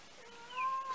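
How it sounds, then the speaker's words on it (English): A cat meows insistently while searching for her kittens indoors, one drawn-out, rising call that swells louder toward its end, close to the listener with no talking. "My cat is walking around the house going, "Meow, meow," looking for her kittens"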